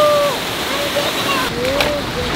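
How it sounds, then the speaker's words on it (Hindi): Fast river current rushing and splashing against a boat, a loud continuous watery roar with a voice talking over it throughout. "तेज़ गति से आगे से पानी आ रहा है"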